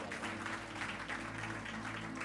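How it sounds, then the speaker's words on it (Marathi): Church congregation clapping during a sermon, a continuous wash of applause under a steady low hum, fairly faint and unbroken throughout. "जरा जोरदार टाळ्या प्रभूच्या गौरवासाठी"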